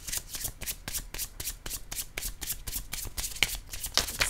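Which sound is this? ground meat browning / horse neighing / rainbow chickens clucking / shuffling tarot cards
shuffling tarot cards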